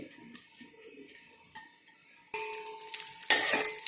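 Cashews frying in ghee for a Dogra sweet milk madra: a quiet pan stirred at first, then a loud burst of sizzling and bubbling with stirring scrapes toward the end, no voices.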